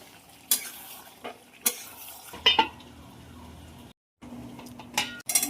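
Fried meat and potatoes stirred in a wok with a utensil, heard as a few separate scrapes and clanks over a low sizzle, close and moderately loud with brief pauses between strokes.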